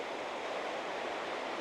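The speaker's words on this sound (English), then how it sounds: "Mateo, please, for the love of God, do not fall in the rapids" Rushing river rapids along a wooded bank give a steady, broad roar of turbulent water, close and continuous with no voices.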